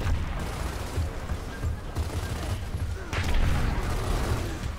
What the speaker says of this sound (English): I'm gonna just blind toss some grenades in there